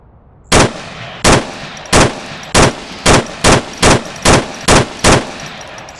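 Ten sharp, loud single shots fired in a VR shooting game with a VR rifle stock, spaced unevenly and coming faster toward the end, each with a brief tail and a low background hum between them.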